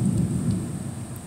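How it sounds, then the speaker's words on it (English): Thunder rumbles through a rainy storm: a dense, steady low roar that holds for the whole moment without easing, with faint rain beneath it. "Lightning cracks."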